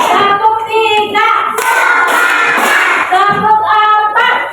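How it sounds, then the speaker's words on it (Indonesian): First-grade children in a maths class clap in time with a counting chant, a few sharp, evenly spaced claps standing out among their voices. "Tepuk 1, tepuk 2, tepuk 3,"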